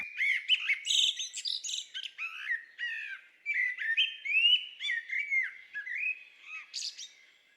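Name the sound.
common blackbird song recording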